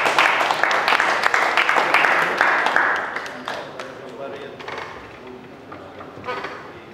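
Applause rises for the fighters at a GAMA FURY ceremonial weigh-in. Dense clapping is strongest over the first three seconds, then fades to scattered claps under an announcer's voice.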